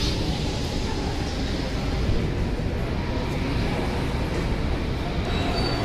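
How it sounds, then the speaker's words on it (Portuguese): A São Paulo metro train pulls into a station, a loud, steady rumble of wheels and cars on rails with a faint squeal, lasting throughout without a break. "O trem está chegando"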